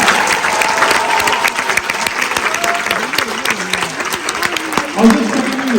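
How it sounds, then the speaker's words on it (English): A large audience at the Esplanade Theatre applauds young musicians in a Christmas Eve concert, loud sustained clapping with cheers and shouts mixed in throughout. "They need big round of applause by all of you"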